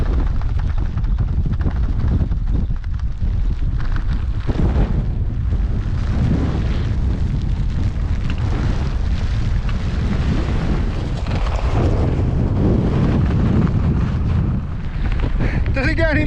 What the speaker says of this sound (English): Told you it was a bit windy.